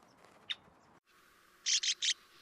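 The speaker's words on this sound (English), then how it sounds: "I get too close to the nest of this male red-winged blackbird" A male red-winged blackbird calls near its nest at the edge of a wetland pool, one short sharp note followed after a pause by three quick harsh bursts, close and loud over quiet outdoor background.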